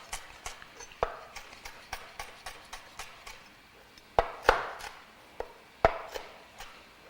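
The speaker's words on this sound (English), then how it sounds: "lemongrass is just it's a root. Take it off. You just want to use the tender parts. And again, just give it a nice little slice." A knife slices the tender parts of trimmed lemongrass stalks for a lobster stir fry, giving a series of sharp, distinct chops on a board at an uneven pace, close and fairly quiet, with no talking.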